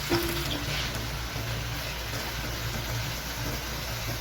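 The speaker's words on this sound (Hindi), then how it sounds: "प्याज थोड़ा सा फ्राई हो गया था, मैंने इसके अंदर 800 ग्राम कीमा डाल दिया" Minced meat frying with onion in a pan: a continuous dense sizzle and hiss holding steady throughout, close and moderately loud, with a low rumbling hum underneath and no talking.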